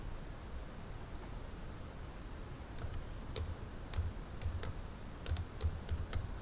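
Keystrokes on a computer keyboard while working in Microsoft Word, a quiet run of sharp, irregular clicks and taps in the second half over a steady background hiss, with no talking.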